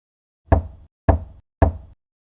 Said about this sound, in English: The third night, the same 3 knocks.